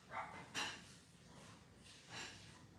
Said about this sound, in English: my neighbor's dog is outside.